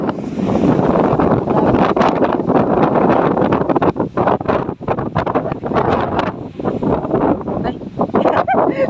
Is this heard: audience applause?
no